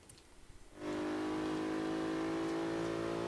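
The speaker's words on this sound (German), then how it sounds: "Das hört sich halt an wie ein Motor mit richtig dick Hubraum" A Bentley 6-litre W12 engine in the racing game Forza Horizon 3 starts quiet, then surges into a loud, steady, deep drone with a strong harmonic hum that holds for several seconds, no talk over it.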